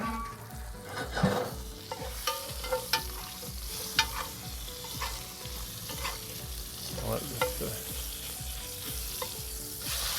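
Dry-aged steak searing in a hot pan gives a steady, close sizzle and crackle with sharp pops and spatters scattered throughout, no talking.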